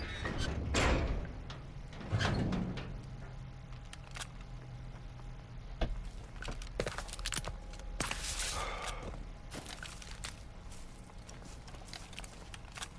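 Door opening in the World War II shooter Call of Duty WWII, a couple of sharp knocks and creaks near the start, followed by scattered clunks and footsteps over a low ambient rumble.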